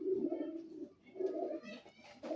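Golden pigeon cooing close by, a soft low rolling coo repeated about three times in a steady rhythm, alone with no talk.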